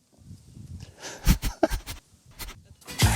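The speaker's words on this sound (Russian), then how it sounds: "Просто козы!" Goats on the island of Socotra bleat several times in quick, uneven succession, close and fairly loud, over faint background noise.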